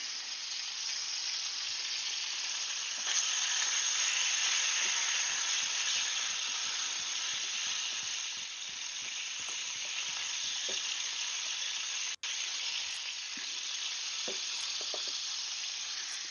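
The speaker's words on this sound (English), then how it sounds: "Oh, no, that's bacon sizzling." Steady, crackling sizzle of bacon frying in a pan, a dense hiss with scattered pops, continuous and close with no talking.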